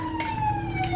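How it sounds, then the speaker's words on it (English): A siren wails steadily in the distance, a thin sustained tone over low background rumble. "Now I'm getting kind of nervous because I hear sirens."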